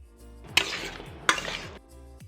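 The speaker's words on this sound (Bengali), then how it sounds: "লাউ দিলাম, লাউ দিয়ে ভালো করে নেড়ে নিলাম" Two quick scraping stirs of a spatula through bottle gourd, chopped tomato and salt in a cooking pan for a prawn and gourd dish, close and fairly quiet over a low background hum.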